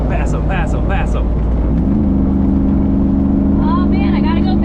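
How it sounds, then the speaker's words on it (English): A Jeep Wrangler with a swapped 6.4 Hemi V8 cruises at highway speed, a steady low engine drone with a rising tone shift, while people talk inside the cabin. "I don't remember the last time I was going 70 miles an hour in this Jeep comfortably down the road"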